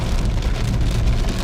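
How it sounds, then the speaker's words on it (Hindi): Heavy rain pours down on a national highway in India, a dense, loud, steady hiss of drops hammering the surface with no break and no voices. "बहुत तेज़ बारिश।"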